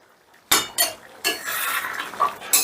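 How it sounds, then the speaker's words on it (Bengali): A cooking pot lid lifted off a simmering egg and soybean kosha, with a few sharp metallic clanks and scrapes close by, followed by a continuous hissing bubbling from the uncovered pan. "কিছুক্ষণ বাদে ঢাকাটা তুলে নিলাম"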